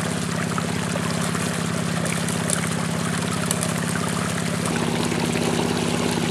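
Water runs in a steady, loud rush through a gold prospecting sluice box with razorback matting, a constant splashing flow with a faint low motor hum beneath and no voices.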